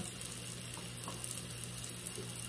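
Onions sizzle steadily in a pan on the stove, a soft continuous frying hiss with faint crackles throughout and no talk.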